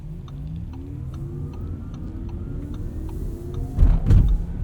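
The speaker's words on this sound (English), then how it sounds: "Sounds a little bit different from some other e-tron Audi products that we've driven, but still one of the cooler EV noises" Audi Q8 Sportback e-tron quattro electric SUV under way with its synthesized drive sound, a layered rising hum and whine inside the cabin, then a brief louder low rumble near the end.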